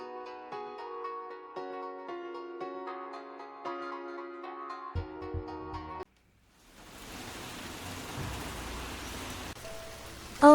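Steady rain falling, a dense hiss that cuts in abruptly after a stretch of soft music and continues alone at moderate loudness.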